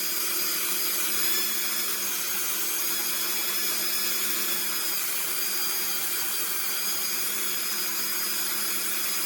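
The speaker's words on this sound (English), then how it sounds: "And I know I'm around speed 15 on my Dremel." A Dremel rotary tool running around speed 15 whines steadily as it smooths the edges of a polymer clay pendant, a constant high-pitched motor drone with light grinding, close and continuous without speech.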